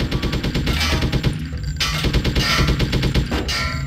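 Rapid automatic gunfire from a shootout in the video game Hitman: Codename 47, loud and close, with sustained bursts of shots rattling continuously throughout and brief gaps between volleys.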